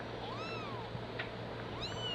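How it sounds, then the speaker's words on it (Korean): A newborn kitten, eyes barely open, gives thin, high meows from a person's lap: two short calls close by against a steady low hum, no talking. "턱시도는 울음소리를 듣고 집사에게 다가오는데요."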